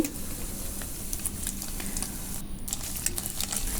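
Onion and boiled, chopped chicken pieces frying together in a pan give a steady, close sizzle with soft crackling pops throughout, with no voices over it.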